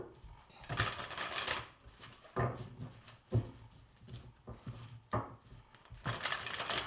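Tarot cards being shuffled for a reading, giving repeated bursts of riffling and slapping in uneven rhythm, close and fairly quiet, with no talking.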